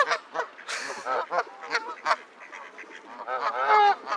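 Several geese honk excitedly at a bird park, with close, repeated, overlapping calls in irregular bursts throughout.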